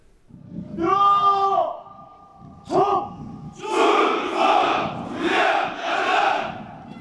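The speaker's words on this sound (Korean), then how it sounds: "부사관 후보생들의 힘찬 경례 소리가 연병장에 울려 퍼집니다" Newly commissioned army NCO candidates shout a salute on a parade ground during a winter ceremony at the army NCO school: two loud drawn-out unison cries, then a sustained roar of many voices rising and falling in several waves.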